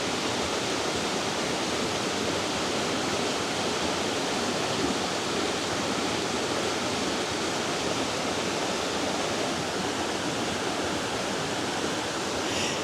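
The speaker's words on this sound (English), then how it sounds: "So the water comes through the building, and you got massive walls on each side." Water pours through the ruins of an abandoned 1849 mill in Burrillville, Rhode Island, channelled between massive stone walls: a steady, loud, broadband rushing roar that never lets up, with no voices.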